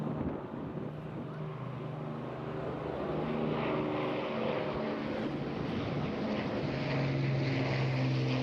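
PA474, a propeller aircraft built by Vickers Armstrong at Broughton, flies at the Eastbourne International Airshow with a steady droning engine roar that builds slightly, mixed with wind noise.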